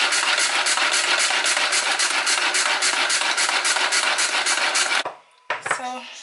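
Food processor motor chopping parsley in rapid pulsing bursts, loud and close for about five seconds, then cutting off into a few short stops and restarts.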